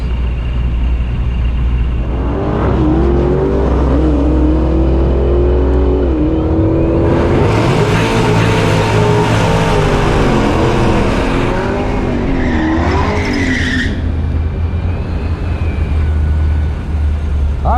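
Dodge Hellcat drag car launching at a drag strip on opening day of racing, a loud engine roar rising and screaming through gears, with tire squeal, staying close and continuous before fading.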